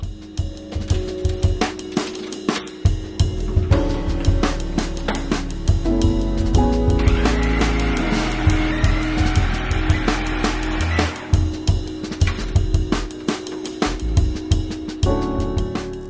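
A stand mixer beats cookie dough with an egg and honey, its motor droning steadily and loudly throughout with rhythmic thumps and clatter from the bowl.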